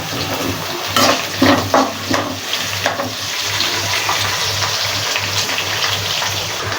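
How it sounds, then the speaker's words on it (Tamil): Sliced onions with crushed garlic sauté in a pan for a Tamil bitter gourd tamarind curry, giving a steady hissing sizzle with a few stirring scrapes early on and a low hum beneath. "வெங்காயம் நல்லா வேகட்டும்."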